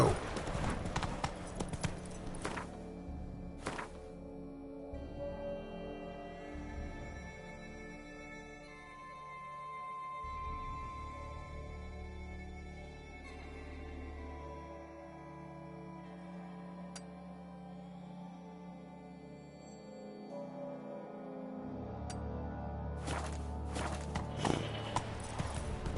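Roach, the horse in the video game The Witcher 3, galloping with a steady rhythmic clip-clop of hooves under a layered orchestral game score.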